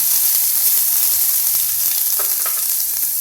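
Tomatoes drop into a sizzling tempering for vegetable rasam, giving a loud, dense, steady hiss of frying oil with a few soft stirring clicks.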